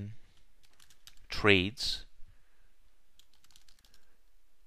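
Faint clicking of keys on a computer keyboard, soft and brief, following a short spoken word.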